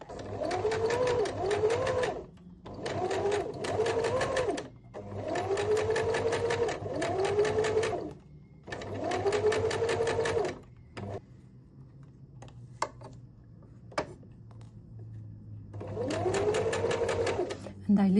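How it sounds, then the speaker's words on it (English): A sewing machine stitches around a fabric circle for a rose brooch, running in several loud close bursts of rapid mechanical stitching separated by short pauses, with a few clicks and a voice speaking quietly in between. "So now I go and I sew around a circular."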